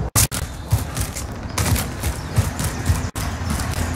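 Airstrike explosions in the Warzone video game, a rapid series of loud booming blasts and crackling impacts, fairly close, with brief sharp cutouts between bursts and no talk.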